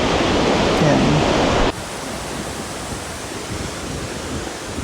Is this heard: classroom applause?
no